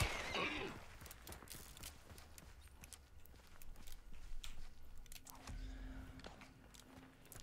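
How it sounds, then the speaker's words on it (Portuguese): In the video game Hunt: Showdown, a horse gives a brief whinny at the start, followed by faint clip-clopping hoof steps and scattered game noises. "Cavalinho!"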